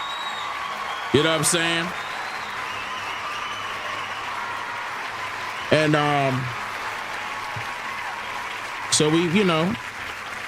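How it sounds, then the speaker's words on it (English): Clapping rolls on as a steady wash of applause under a man's speech, which breaks in three separate short phrases. "let me clap it up for my son"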